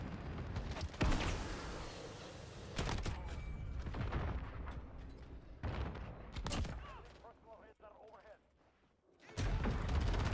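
Rocket explosions in an online multiplayer video game, with several sharp, loud booming blasts scattered across the stretch, each followed by a rumbling decay, amid other in-game noise.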